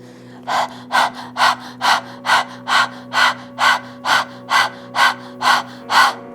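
Rapid, rhythmic Breath of Fire panting breaths, about a dozen sharp open-mouthed exhalations evenly spaced, close and clear with a faint steady hum underneath.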